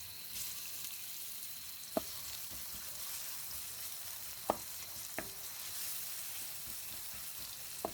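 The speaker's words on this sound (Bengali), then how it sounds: "সরিষার তেল দিয়ে রান্না করতেছি।" Fish fries in mustard oil with a quiet, even crackling sizzle, broken by a few sharp clinks of a utensil against the pan, faint and unbroken across the whole stretch.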